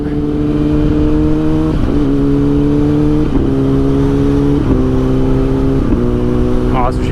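2017 Kawasaki ZX10R sportbike accelerating hard through the gears with its quickshifter, loud engine pitch rising steadily and dropping sharply at each of four quick upshifts, heard close up.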